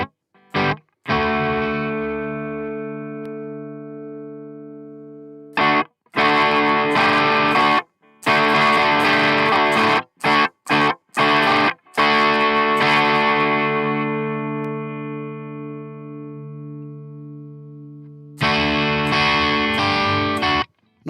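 An electric guitar played through the clean channel of the Nembrini JMP Pro amp app, with sustained ringing chords and single notes broken by a few short staccato stabs and pauses, loud and dry with no talking.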